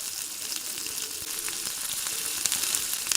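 Pounded red chili powder frying in hot oil in a pan with carrots, a steady bright crackling sizzle with scattered pops, close and fairly soft.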